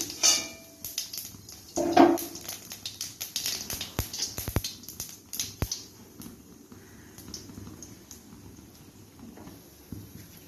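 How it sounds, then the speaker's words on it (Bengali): Cumin seeds are tempered in a hot pan while cooking a raw banana curry, giving scattered crackling pops and spattering patter with a few metallic clinks, close and loudest early before settling into softer crackles. "দিয়ে দেবো একটু সাদা জিরে ফোড়ন"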